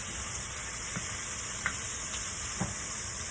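Pieces of salt mackerel toss and fry in a pan with a constant loud sizzle and hiss, marked by a few soft knocks as they are stirred, close up, with no talk.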